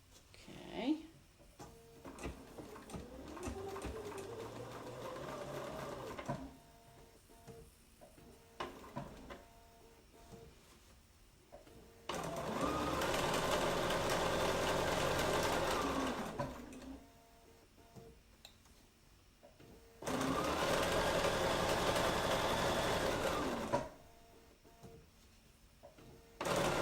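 A domestic sewing machine stitches the right sides of a pocket together, running in two long steady bursts of whirring needle motor separated by quieter pauses, with a voice talking faintly at the start.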